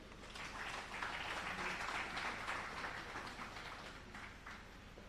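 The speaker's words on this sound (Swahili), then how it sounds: "Makofi mengi zaidi kwa Bi Mary Mniwasa" Steady audience applause at a ceremony, a dense wash of many hands clapping at a fairly even level, continuing throughout with only faint voices beneath.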